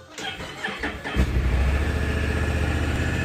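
An engine cranks briefly, catches and fires up, then settles into a steady, loud idle close by.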